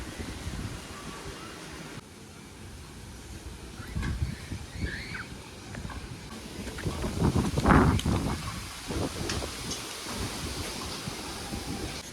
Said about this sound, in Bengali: কত হাওয়া স্টার্ট হয়ে গেছে।